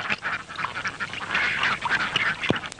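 A flock of ducks quacks in a busy overlapping chorus, nasal calls tumbling over one another close by with no voices.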